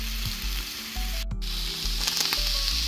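Onions, chilies and garlic roast over an open flame without oil, giving a continuous crackling sizzle with low rumbling bumps, a brief dropout, and no voices.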